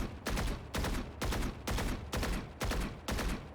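Rapid bursts of gunfire from a first-person shooter's deathmatch training session, about seven loud, sharp volleys in quick succession, each cutting off abruptly before the next, with no talking.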